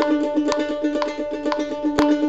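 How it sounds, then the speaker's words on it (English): Mandolin tremolo picked in steady 16th notes at a fast tempo, a bright, even stream of rapid repeated notes with regular accents on the beat, played alone and close. "when you're playing that fast, your tremolo is probably only going to be 16th notes"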